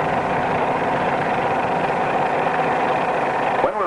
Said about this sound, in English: notice that the sound of the engine changes rather slowly.